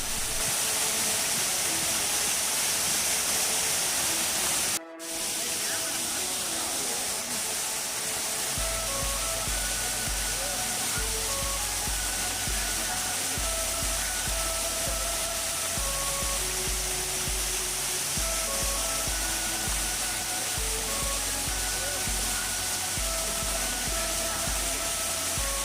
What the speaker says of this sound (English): So this is Meenmutty Waterfalls.